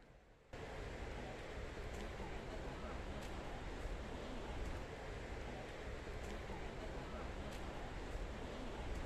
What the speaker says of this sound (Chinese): 听到啲海浪声，真系好治愈